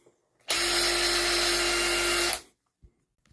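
A Milwaukee power tool running on an HL battery whirs at a steady high pitch for about two seconds, close and loud, then spins down to silence, followed by a faint click.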